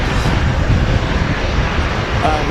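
An EasyJet Airbus A319 airliner roars at Manchester Airport, a loud, broad engine rumble sustained evenly and up close from start to finish with no speech over it.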